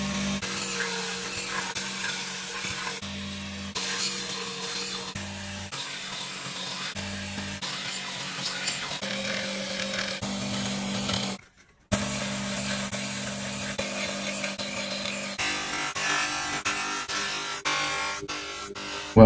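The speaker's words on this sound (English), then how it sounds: "Today, we're gonna be sharpening this, I would say a toy dagger," A toy dagger being sharpened, giving steady grinding and rubbing abrasion that runs on and off for most of the stretch, loud and close, with one brief silent break near the middle.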